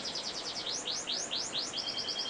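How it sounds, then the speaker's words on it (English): A pair of chaffinches kept in a bird room chirp in quick repeated high phrases, clear and close, followed by a run of short even notes. "Flight 5, pair of chaffinches."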